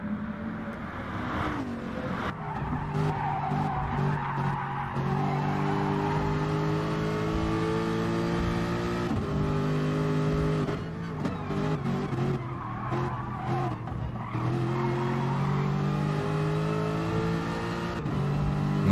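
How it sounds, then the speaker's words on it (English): An Aston Martin race car in the Gran Turismo Sport racing game, its engine howling through gear changes with rising and falling pitch and tire squeal, loud and continuous for the whole stretch. "That Aston Martin sounds awesome."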